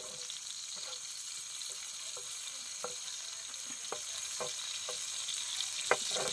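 In a Konkan village, chicken fries on a clay roof tile with a soft, continuous sizzle and scattered small pops and crackles throughout, no talking.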